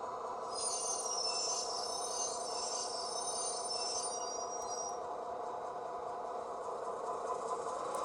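A Rapido model train locomotive gives a thin, high-pitched brake squeal that rises over a steady electric hum for a few seconds, then fades while the droning motor continues.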